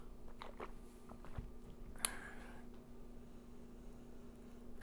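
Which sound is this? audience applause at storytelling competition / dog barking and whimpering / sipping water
sipping water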